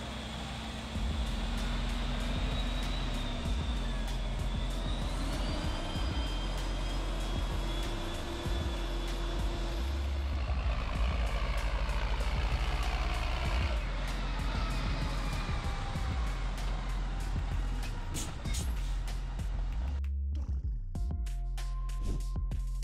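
A potato harvester that has been in service for about six years runs in the field, a loud continuous engine drone with rattling and clanking machinery and shifting tones, ending abruptly in a brief choppy stretch.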